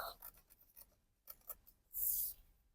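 Scissors snip through a paper dress pattern in quick crisp cuts, close and quiet, with a louder rustling slide of blade and paper near the end.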